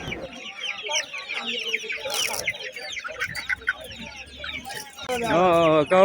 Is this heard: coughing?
no